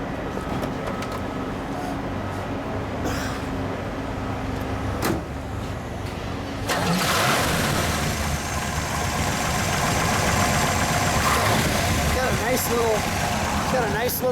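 A 1965 Chevrolet Impala's 396 L78 V8 engine cranks and catches partway through, then settles into a loud, rumbling, loping idle that carries on steadily, with voices talking over it.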